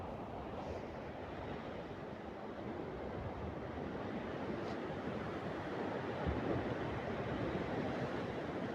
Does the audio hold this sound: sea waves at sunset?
yes